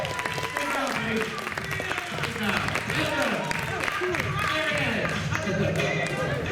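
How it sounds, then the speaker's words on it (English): Audience applause and cheering at a magician's stage show during a Fright Fest theme-park event, a steady dense wash of clapping mixed with lively crowd voices throughout. "I just put a big round of applause."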